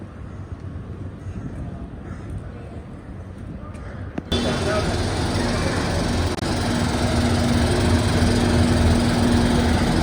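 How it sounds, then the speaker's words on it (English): A forage harvester on a farm drones steadily nearby, growing louder and denser partway through as boxes go through it, with a constant mechanical roar and whine. "boxes going through the forage harvester"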